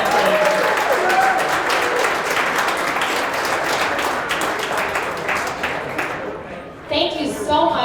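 An audience at a public school event applauds a high school drumline, a full room clapping loudly with some voices mixed in, the clapping thinning and fading toward the end.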